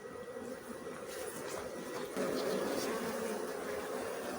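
Carnica honeybees at an open hive during a quiet queen replacement give off a dense, steady buzzing hum that swells slightly louder partway through and carries on without a break.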